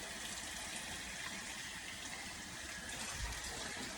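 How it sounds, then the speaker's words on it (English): Water pours into a pot of cooking okra in a kitchen, a steady, faint gushing stream with no talk over it. "I'm just gonna add a little bit more water to our okra"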